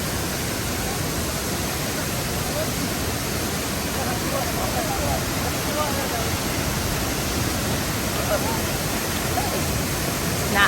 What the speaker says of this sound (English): Not bad swimming in this big waterfall.